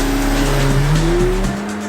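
Audi RS3 engine held at the rev limiter, a loud steady roar with a stuttering, bouncing pitch that wavers up and down for about a second and a half, then drops off.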